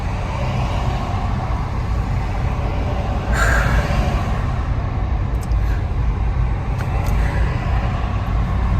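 A car driving along a road toward Irpin, heard as a steady low engine and tyre rumble from inside the vehicle, with a brief louder swell partway through.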